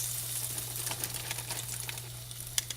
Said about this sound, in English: start putting the chicken into the pan